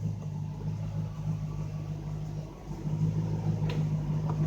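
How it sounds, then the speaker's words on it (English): An MG Magnette V8 coupe idles, a steady low engine hum with a constant tone, close and moderately loud, dipping briefly midway before resuming evenly. "So we've got it running, idles nicely."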